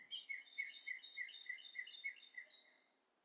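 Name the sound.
bird chirping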